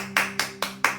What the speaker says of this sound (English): I just have to clap.